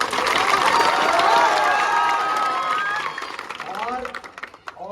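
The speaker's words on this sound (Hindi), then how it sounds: "ताली मार के बताओ एक बार" Crowd at a political march rally in Morena, Madhya Pradesh, breaking into sustained clapping and cheering, loud and dense at first and then tapering off toward the end.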